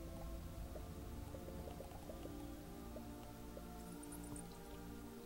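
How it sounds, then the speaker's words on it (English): Goo rains down in the video game World of Goo, a dense patter of small wet drips and squishy plops falling continuously over a steady musical background. "It's raining goo!"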